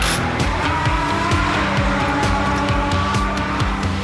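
A 650-horsepower GP Masters race car, with an engine like an older Formula 1 unit, roars loudly and steadily at the 2006 Doha round, with tire squeal and repeated gear-change pulses over continuous engine howl.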